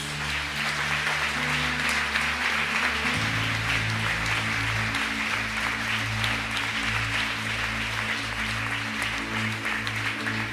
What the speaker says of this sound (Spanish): Dale un aplauso a nuestro amado Dios.